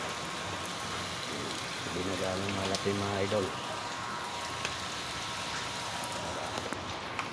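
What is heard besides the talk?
rain falling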